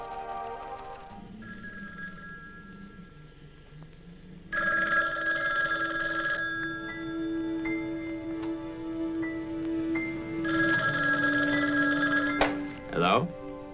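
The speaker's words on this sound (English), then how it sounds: "How about that telephone up at the Butler house? Is it working? Well, try it now." An old-fashioned telephone bell rings in repeated bursts inside a house, loud and close, with talk and background sound between the rings, in a 1970s slasher film.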